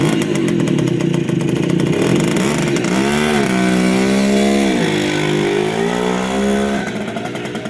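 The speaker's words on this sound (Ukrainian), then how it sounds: "Все, поїхав наш Василько на дирчику своєму" A restored 1968 Riga 4 moped's small two-stroke engine buzzes loudly up close, revs rising and falling as it pulls away, then fades slightly toward the end.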